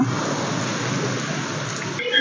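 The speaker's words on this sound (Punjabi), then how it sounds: "ਮੀਂਹ ਆ ਗਿਆ ਫੇਰ ਮੀਂਹ ਆ ਗਿਆ" Steady, dense rain hisses without a break, a heavy downpour close by that holds an even loudness throughout.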